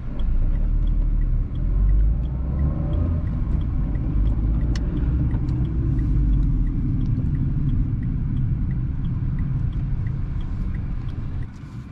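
A Renault Symbol 0.9 TCe engine idles steadily with a low, continuous rumble and hum, close by and unbroken for the whole stretch.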